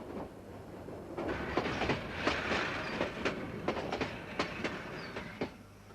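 A train runs along the tracks with rhythmic clickety-clack of wheels over rail joints, steady rumble underneath, no talking.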